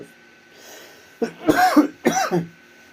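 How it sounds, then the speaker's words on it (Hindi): Two or three harsh coughs in quick succession, close and fairly loud, after a moment of near quiet. "खांसी आ गई थी"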